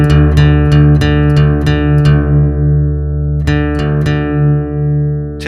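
Two guitar strings rung together for tuning to drop D, sustained tones sounding close and loud with repeated plucked attacks, the pitches settling as they are brought to match.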